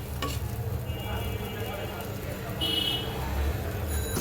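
Spice masala and vegetables fry in a pan, given a splash of water to keep cooking down, making a continuous sizzle. A few faint electronic beeps come in part way through, and the frying grows slightly louder toward the end.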